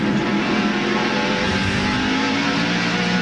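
NASCAR Winston Cup stock car at Martinsville Speedway in 1999, a steady, loud, dense engine roar filling the clip with no clear pauses.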